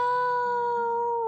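A cartoon cat in a video game gives one sustained, steady meow that holds its pitch for over a second, clear and close with no talking.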